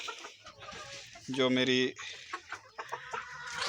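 Hens in a village poultry block cluck in a loud burst of repeated calls near the middle, with someone talking before and after.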